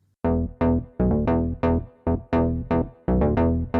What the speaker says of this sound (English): And now let's use the Holy Grail to add some spring reverb.